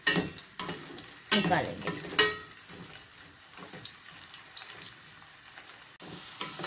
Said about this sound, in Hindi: अब हम इसमें गाजर फ्राई करेंगे।